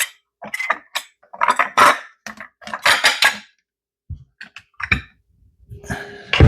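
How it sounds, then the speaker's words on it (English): Dishes and bowls clatter and clink in a kitchen during pumpkin jam preparation, a run of sharp, close, irregular knocks and chinks in bursts with short pauses. "Let me just see if I can get another bowl."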